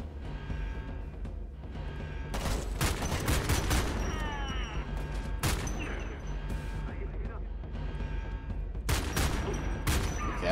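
Rifle gunfire in the video game Homefront: The Revolution rings out in several loud bursts and single cracks over a low rumbling game soundscape, with a player talking at times.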